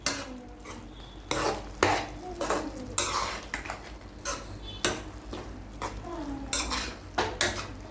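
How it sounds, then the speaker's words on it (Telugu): Utensil stirring tomatoes into a curry in a pan, with repeated scraping and clinking strokes of metal on the pan over faint sizzling, close and fairly loud, in an irregular rhythm across the clip. "ఇది టమాటా కలిపేసేయాలి."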